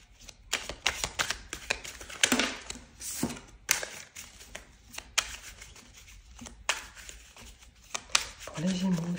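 Playing cards are shuffled close up for a tarot-style reading, bursts of quick riffling and flapping snaps repeating irregularly, with brief taps between and a voice near the end.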